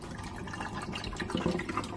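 D96 black-and-white film developer being poured into a developing tank, a quiet, soft liquid trickle and splash heard close up at low volume.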